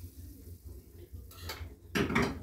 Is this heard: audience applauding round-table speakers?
no